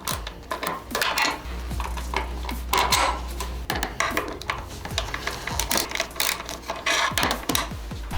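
Bolts being fitted with a 4mm Allen key and a socket used on a nut while installing a tail tidy on a 2024 KTM Duke 390, with rapid metallic clicks and ratcheting, small tool taps and rattles close by.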